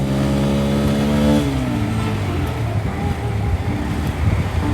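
A Bajaj Pulsar motorcycle engine drones on a city road, a steady close exhaust note that rises in pitch then drops as the rider shifts, with traffic noise and wind around it.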